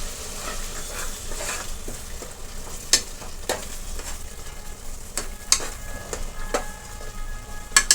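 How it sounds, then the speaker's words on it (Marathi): Tomato paste sautés in oil for a Kolhapuri-style mutton curry, with a steady close sizzle broken by intermittent spoon scrapes and clinks, heard alone without speech. "ती देखील मी तेल सुटेपर्यंत परतून घेणार आहे"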